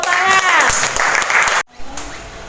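A classroom of students breaks into a short burst of applause, close and lively, with a few voices mixed in. The clapping cuts off abruptly partway through and is followed by quieter room sound.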